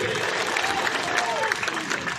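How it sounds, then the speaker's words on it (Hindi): Brief, dense applause from a political rally crowd, continuous clapping with a faint voice running under it. "जोरदार ताली बजाओ"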